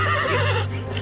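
A horse whinnies close by in a short, loud burst with a wavering pitch, steady low background hum beneath it, no talking.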